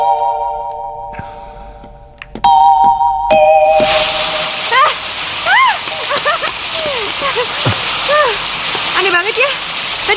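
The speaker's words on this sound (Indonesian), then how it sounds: "tiba-tiba jadi hujan sekarang" Heavy rain suddenly starts pouring, a dense loud hiss of downpour rising after a few seconds and continuing steadily, with people's voices audible beneath it.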